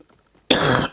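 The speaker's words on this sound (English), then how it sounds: "Excuse me for the coughs, by the way" A single harsh cough bursts close to the microphone after near silence, loud and rough, then fades out quickly.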